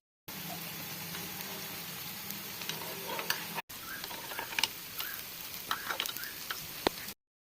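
Kuzhi paniyaram batter sizzles steadily in ghee in a paniyaram pan, a continuous close frying hiss with small crackles and pops, no talking over it.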